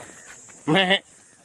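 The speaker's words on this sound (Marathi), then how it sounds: "आणि इकडे रानामध्ये कैलास दादा बकऱ्या चरवायला आलाय बघा, बकऱ्या चरताय तिकडे।" A single short goat bleat rises clearly over a quiet outdoor background with faint insect chirping, from goats grazing in village fields.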